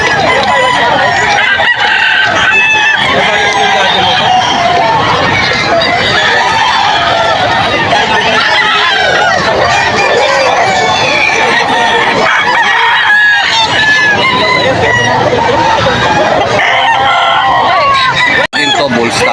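Bull stag roosters at a chicken market in Bocaue, Bulacan crow repeatedly and cluck amid a dense, loud din of many birds, with a faint murmur of people in the background.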